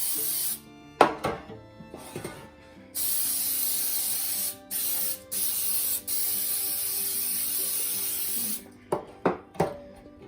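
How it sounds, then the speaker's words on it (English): Several bursts of cooking spray hiss onto baking pans, some long and steady, others short quick puffs, with light clicks and handling clatter between them. "Spraying them down pretty good"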